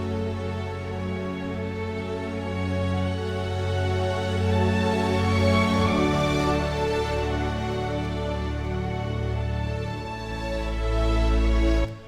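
Orchestral passage from a film score, high strings swelling in a sustained build toward a high D over a low, steady bass, growing fuller and louder across twelve seconds with no talking.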